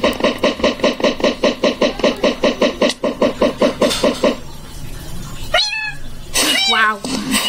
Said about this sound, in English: Why is there cats?